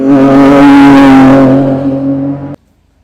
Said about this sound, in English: And now to another 6-cylinder, a BMW this time,